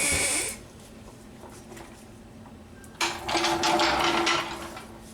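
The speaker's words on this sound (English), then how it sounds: "now we can lower the jack" A car jack being let down after suspension bolts are torqued, a quiet hiss followed by a louder mechanical whirring and rattling release lasting a second or two, then trailing off.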